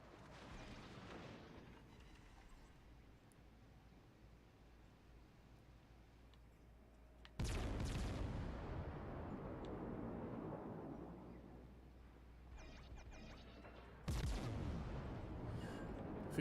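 The battleship Musashi's main guns fire in World of Warships, two heavy booming salvos several seconds apart, each a loud sudden blast with a long rumbling decay over quiet background noise.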